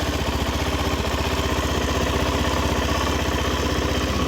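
A Suzuki DRZ 400 SM single-cylinder motorcycle engine idles steadily and close by, a fast even thumping pulse that holds its loud, continuous rhythm with no voices over it.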